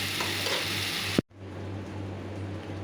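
Vegetarian mixed vegetables frying in a pan, a steady dense sizzle with a low hum, broken by one brief clunk and dropout before the sizzle resumes.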